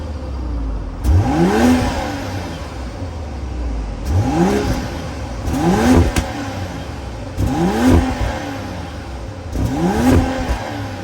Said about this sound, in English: that was the sound of the 3-liter B58 sold by BMW for the 2023 7 Series